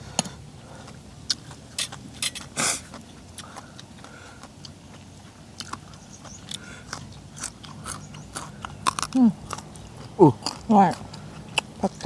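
Chewing and crunching of spicy Thai papaya salad with raw vegetables such as white cabbage, close-up bites and crisp crunches scattered irregularly, growing louder and denser toward the end, with a voice speaking at times.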